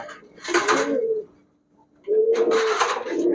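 Giribaz high-flyer pigeons coo close by in a shop, two rounded, throaty phrases separated by a short quiet gap.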